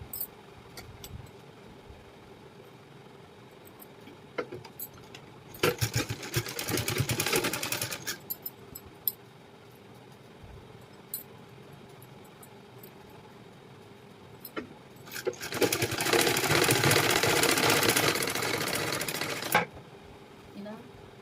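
A sewing machine runs two bursts of stitching along a marked line on a blouse lining, about two and three seconds and then four seconds long, a whirring rattle over quiet room noise with short pauses between.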